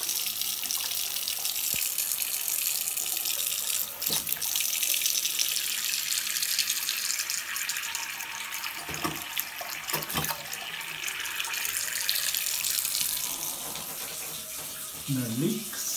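Hot water runs steadily from a newly installed bathroom basin tap, a continuous close splashing rush filling the whole stretch, with a few faint knocks and brief background sounds.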